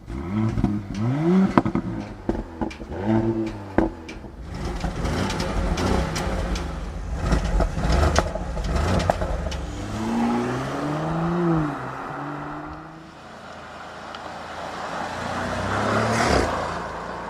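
Porsche Cayenne 2024 V6 and V8 engines rev in several sharp bursts, pitch rising and falling with each blip, followed by a longer drawn-out rev and a quieter, fading rumble.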